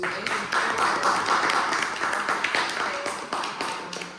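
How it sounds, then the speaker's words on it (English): A panel audience claps for a guest, steady dense hand-clapping at moderate loudness that thins out toward the end, no talking over it. "can we give a round of applause to Mr. Robert Newman"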